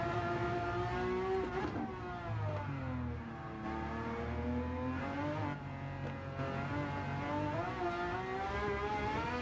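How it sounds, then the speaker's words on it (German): A car fitted with a swapped-in Ferrari Enzo V12 engine in the racing game Gran Turismo 7 sings a steady, loud, high-pitched howl that dips and climbs as it shifts and revs through corners, with no talk over it. "dass man hier überhaupt einen anderen Motor einbaut, nämlich in dem Fall den V12 des Ferrari Enzo"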